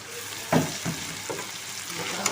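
Chicken pieces with added tomatoes frying in a pan, a constant sizzle under a few stirring scrapes, close and moderately loud, nobody speaking.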